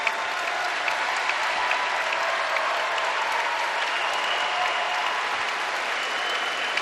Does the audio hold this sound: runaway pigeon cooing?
no